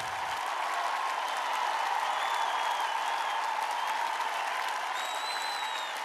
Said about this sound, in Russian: Спасибо вам, что вы так ласкаете меня аплодисментами